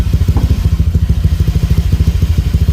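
A motorcycle engine idles close up with a worn spark plug, its rapid thumping exhaust pulses loud and slightly uneven in rhythm throughout.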